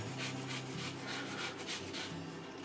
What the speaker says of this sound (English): before I put the mix in, I'm going to put some lemon zest.